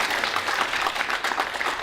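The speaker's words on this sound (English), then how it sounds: "Huge round of applause for C.J." An audience at a community event applauds in a steady, dense burst of clapping that fills the whole moment at a moderate level.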